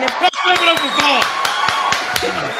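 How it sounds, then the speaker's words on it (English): Sharp claps ring out in a steady run, loud and close, with voices talking over them throughout. "All right, that's enough clapping."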